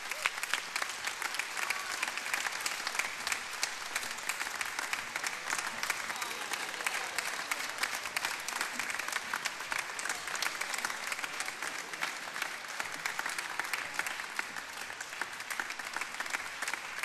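Sustained applause from a large audience at a sports awards evening, dense and steady for the whole stretch, cheering singers from a primary school choir and a pop vocalist after their song.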